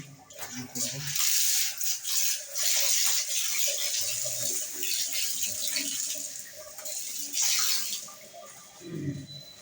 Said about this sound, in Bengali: একটু হাত পা ধুয়ে দিন।